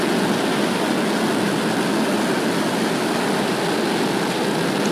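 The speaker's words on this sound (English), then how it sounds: "First stage engine propulsion is nominal." Rocket first-stage engines fire during launch with a steady, loud, broadband roar that holds at a constant level throughout and has no voices.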